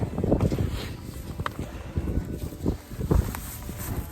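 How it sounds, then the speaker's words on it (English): Gusty wind blowing across an open field where square hay bales are being fed out, buffeting the microphone in uneven rumbling bursts with faint rustling and movement underneath. "The wind is picking up here."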